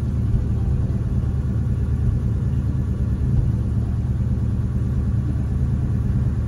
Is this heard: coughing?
no